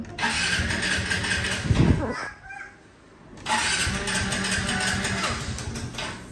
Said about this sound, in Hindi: अपने स्कूटर को चेक कर रहा हूँ, स्टार्ट करके देख रहा हूँ, 8 दिन से बंद पड़ा है